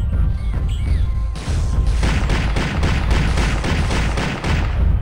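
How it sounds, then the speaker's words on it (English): Machine gun in the video game Turok 2 firing sustained loud bursts of rapid, evenly spaced close shots with heavy booming thumps, briefly pausing once before resuming, with no talk. "I love the machine gun too. I love the sound of it, personally."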